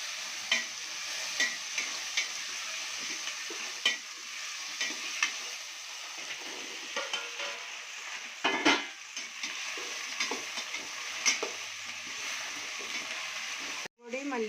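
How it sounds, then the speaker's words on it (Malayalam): Okra and tomato sautéing together in a pan with coriander powder, a faint sizzle under intermittent stirring scrapes and clinks, with a voice talking over the cooking. "ഇതെല്ലാം കൂടെ ഒരുമിച്ചിട്ട് നമുക്ക് നല്ലപോലെ വഴറ്റണം"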